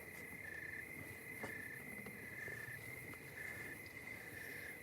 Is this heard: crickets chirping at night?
yes